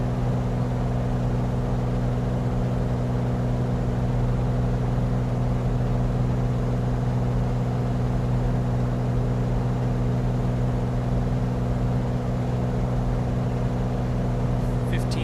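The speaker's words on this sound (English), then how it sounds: "Get more power out of the engine now." Turbocharged piston aircraft engine in Microsoft Flight Simulator during a high-altitude climb, a loud, steady droning hum with constant pitch throughout.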